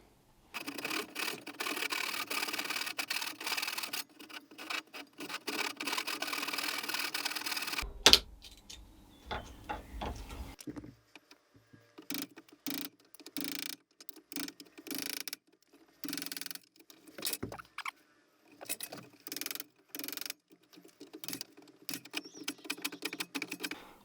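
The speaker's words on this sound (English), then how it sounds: "I'm going to go ahead and use a saw, cut that, and then we're going to use" Hand sawing and chiseling through a plastic webcam cover for a DIY webcam build, with dense scraping strokes for several seconds, then sparser sharp taps and scrapes in bursts, fairly close.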